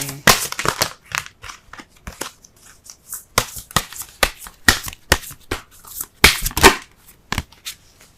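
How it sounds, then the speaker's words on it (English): Oracle cards from a Romance Angels deck being shuffled by hand, a run of sharp crisp riffling flutters and slaps, close and fairly loud, with no voice over them. "Let's go ahead and pull a Romance Angels card."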